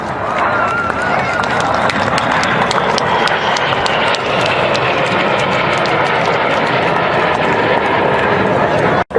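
Red Arrows display jets flying in close formation at the 2016 Herne Bay airshow make a loud, continuous roaring jet wash that fills the whole stretch, with a commentator talking over it.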